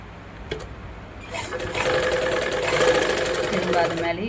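A sewing machine runs in a steady rapid stitching rhythm, sewing a cross-piece finish along a blouse neckline; the close, mechanical whirr grows louder after a second or so and carries on to the end, with no talking over it.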